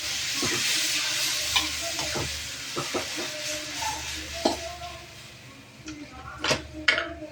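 Kara kuzhambu ingredients sautéing in a pan, a steady sizzle with scraping stir strokes and a few sharp clinks of a spoon against the metal, moderately close throughout.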